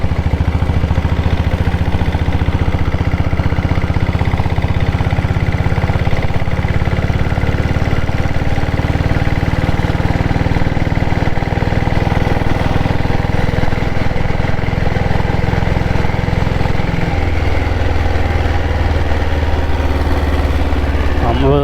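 A Diesel Bullet Red Deluxe 7.5HP diesel engine runs loud and steady at close range, a low chugging drone that shifts pitch slightly near the end.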